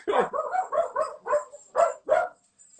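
A dog barks repeatedly in a quick series of about eight close, moderately loud barks with short gaps between them, with no talk over them.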